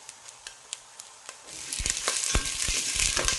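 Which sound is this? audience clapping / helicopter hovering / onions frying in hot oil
onions frying in hot oil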